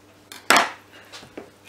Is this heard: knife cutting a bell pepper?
yes